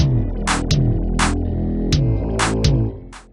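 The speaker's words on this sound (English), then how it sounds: "a 1 kilobyte demo sounds like this" Music from a 1 kilobyte demoscene demo plays as a synthetic buzzing drone, with repeated sharp noise bursts like hi-hats and falling electronic blips in a loose rhythm, fading out at the end.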